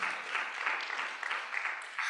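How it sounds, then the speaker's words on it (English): Audience applause at a NAACP legislative symposium, a steady wash of clapping from a modest crowd, moderately loud and continuous. "clap it up for her"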